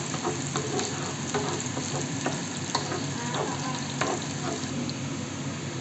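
Onions, garlic and chili fry in a pan for chicken fried rice, a steady close sizzle dotted with light scraping stirs from start to end.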